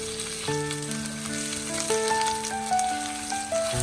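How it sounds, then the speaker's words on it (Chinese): Slices of water bamboo (jiaobai) stir-fry in hot oil in a wok, with steady sizzling close by under a few sustained musical tones, with no speech. "所以我们快速的给它翻炒均匀，"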